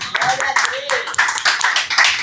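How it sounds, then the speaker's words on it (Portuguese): A church congregation claps during a worship service. The claps are close and rhythmic, and voices can be heard over them. "Você pode aplaudir ao Senhor?"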